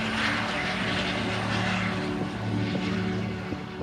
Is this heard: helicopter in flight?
yes